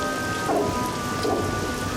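A thunderstorm roars steadily, with dense rain pouring on surfaces and low rolling thunder rumbling beneath it, loud and continuous with no voices.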